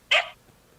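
A small stray dog in the game Fate/Grand Order gives one short, sharp bark, clear and close, followed by silence.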